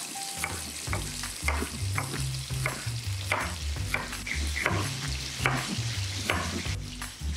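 Onion rings sizzle steadily in a hot pan while a utensil scrapes and stirs repeatedly, with rhythmic clanks against the metal throughout.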